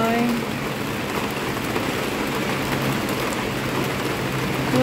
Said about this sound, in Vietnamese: trời mưa lớn rồi